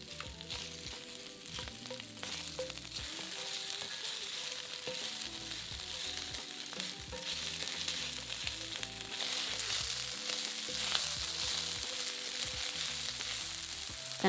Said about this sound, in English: add about 6 chopped sausages and fry them for about 5 minutes until lightly browned all